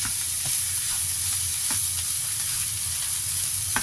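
Leftover larb fried rice stir-fried in a hot pan: a loud, continuous sizzle broken by rhythmic scrapes and clatters of the spatula, close up and with no voices.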